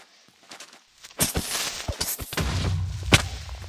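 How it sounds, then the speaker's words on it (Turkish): A muffled, crunchy Minecraft creeper explosion bursts after a brief quiet start, followed by scattered thumps and rumbling debris. "Creeper patladı."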